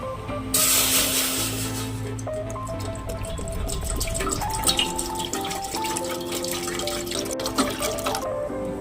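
Water boiling in a steel pot while rice kheer is being prepared, giving a steady, close bubbling and hissing wash under background music.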